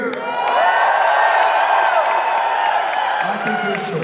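A crowd at the Anthrocon 2023 fursuit dance competition cheers and whoops loudly and continuously, with shouting voices and some clapping swelling together in a sustained roar that barely dips before the end.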